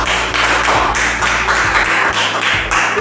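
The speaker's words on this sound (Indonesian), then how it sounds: "Hebat. Tepuk tangan." A primary school class claps together after a water cycle lesson, producing quick, evenly spaced bursts of many hands in a steady rhythm, loud and close with almost no talking.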